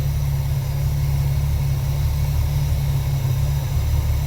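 Car engine fitted with a Varajet carburettor idles steadily, a constant low rumbling drone with an even throb, close and continuous with no talk.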